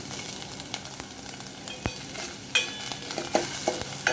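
Corn kernels, carrot and capsicum sautéing in a pan for tomato vegetable soup, a low steady sizzle broken by light scraping strokes and small clicks of a spoon, close by with no talking.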